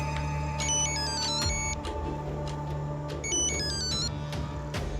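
A mobile phone ringtone plays a repeating electronic melody, steady and fairly loud, with its short patterned phrases recurring alone without speech.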